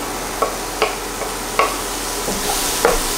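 Garlic sizzles in a frying pan as a utensil stirs it, with several sharp scraping strokes over a steady hiss, close and clear.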